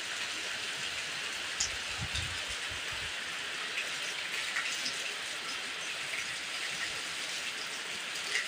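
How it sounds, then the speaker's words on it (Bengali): Steady rain pours down in Cumilla around a house where rainwater has filled the road and yard, a constant even hiss with a brief low rumble early on. "কুমিল্লাতে কী পরিমাণ বৃষ্টি হচ্ছে।"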